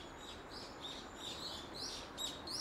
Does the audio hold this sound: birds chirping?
yes